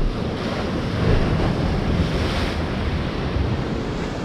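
Sea waves wash steadily against the rocky coast at Oubaai, a continuous broad roar of surf with a gentle swell in the middle, mixed with wind buffeting the microphone and no voices.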